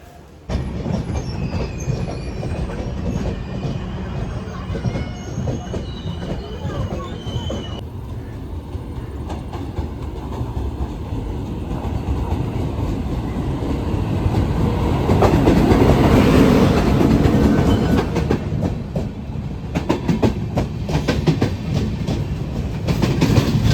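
A train rolls through Chiplun railway station, loud and close, its wheels clattering in a steady clickety-clack with brief squeals and a rising roar partway through, sustained across the whole stretch with no talk over it.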